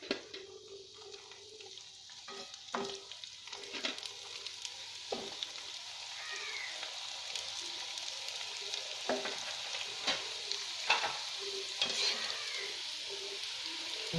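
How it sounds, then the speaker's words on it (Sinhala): White rolls deep-frying in a pan of hot oil, a steady bubbling sizzle that runs throughout, broken by occasional sharper clicks and pops, with no talking. "ඔයාලට පේන ඇති මේක දැන් ටිකක් බැදෙනවා"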